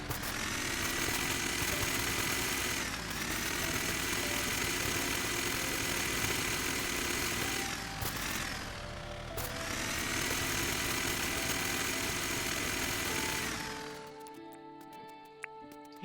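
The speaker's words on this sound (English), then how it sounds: "we can get back on our tractor and plow up the rest of this area" Tractor engine in the video game Dinkum, plowing a field: a steady, loud droning motor that runs continuously with brief dips in pitch, cutting out near the end.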